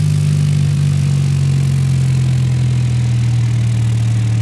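Simulated jet engine in the X-Plane flight game near an aircraft carrier, a steady loud droning hum with a strong low tone that sinks slightly in pitch as the throttle eases back, continuous with no talk.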